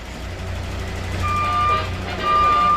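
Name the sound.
trucks backing up with reversing beeps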